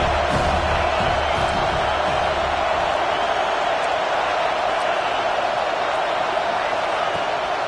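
A college football stadium crowd roars in a dense, continuous wash of noise during a Georgia Bulldogs versus Notre Dame game, loud and unbroken, with a broadcaster's voice faint underneath at the start.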